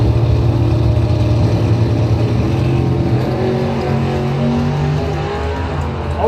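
A Ford-powered roadster drag racing down a bracket strip, its engine a loud, sustained roar that holds steady and drops slightly toward the end.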